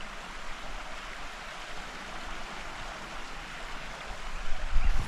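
A creek flows with a steady, broad rush of water, close by and moderately loud with no voices, at a campsite in the Wisconsin Driftless.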